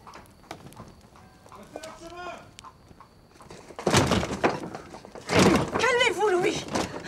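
Horses clip-clop through a town street at a coach relay stop during a historical dramatization of Louis XVI's flight, the hooves thudding near and rhythmically among other bumps, with speaking voices over them.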